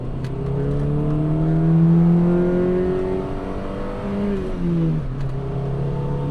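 A Honda Super N kei car's small engine revs up steadily after a downshift on a road leaving a village, its tone rising, dipping briefly and settling into a steady drone, heard close from inside the cabin.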